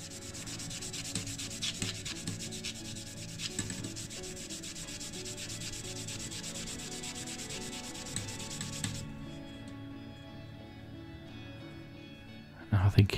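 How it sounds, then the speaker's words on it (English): Fine grit sandpaper rubs steadily over car plastic on a 1970 Ford Capri, a close continuous scratchy hiss with small strokes that stops near the end, followed by a few knocks. "reaching for some fine grit sandpaper, we try and take down some of those scuff marks from over the years"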